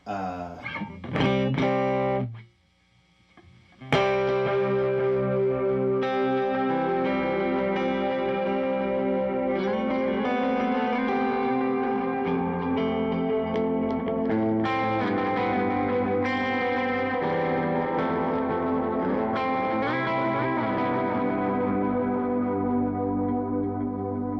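Electric guitar played through a stereo analog-style delay pedal cloned from a Deluxe Memory Man, with chewy modulated repeats and chorus shimmer; a few picked notes, a short pause, then sustained chords ringing out with trailing echoes.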